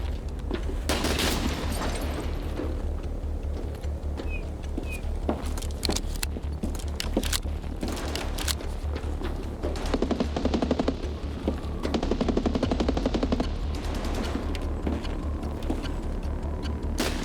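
Gunfire in the shooter game Escape from Tarkov: sharp shots cracking repeatedly across a steady ambient bed, some in quick bursts, with occasional footsteps and rustle between them.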